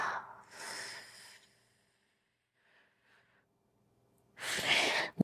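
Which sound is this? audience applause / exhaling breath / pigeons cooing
exhaling breath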